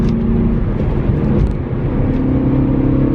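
Inside a BMW E92 M3 at full throttle after a downshift, the engine drones loudly and steadily with a strong low rumble and tonal whine throughout, heard from the cabin without talking.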